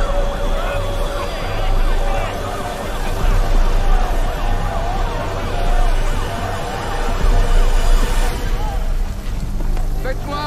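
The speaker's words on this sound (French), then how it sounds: "Les premières ambulances commencent à arriver maintenant qu'on a réussi à dégager le chemin." Ambulance sirens wail and warble as they arrive at an accident scene, loud and overlapping, with people talking over them throughout.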